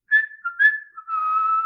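A person whistles a short tune in clear, close tones: two brief rising notes followed by a longer sustained note, alone and fairly loud.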